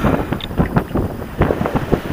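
Sailboat motoring under engine power in calm, windless conditions leaving a channel off Brittany, a low engine rumble mixed with wind buffeting on the microphone and irregular water sounds against the hull.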